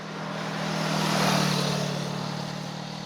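A Kawasaki Ninja Hybrid motorcycle engine runs steadily nearby, a constant loud drone that swells briefly and then settles back to an even idle, with no talking.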